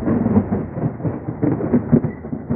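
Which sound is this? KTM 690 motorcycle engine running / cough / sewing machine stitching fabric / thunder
thunder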